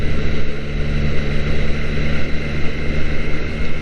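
A motorcycle on a Japanese road accelerating to overtake, giving a loud, steady engine drone mixed with wind rush that holds throughout the clip, close up and without speech.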